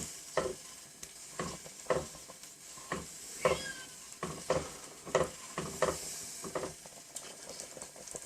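Hot and sour soup is stirred in a pot, each pass of the utensil making a distinct scrape, about a dozen in a regular rhythm over a low simmering hiss, close and clear with no talking.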